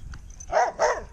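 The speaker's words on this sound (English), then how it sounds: "What do you want, circus trained dog?" A dog gives two quick, close barks in a row after a faint whimpering yip, fairly loud against a quiet room.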